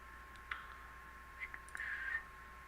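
A computer mouse clicks a handful of times at uneven intervals, each click a sharp, quiet tick over a faint steady hum, with no talking.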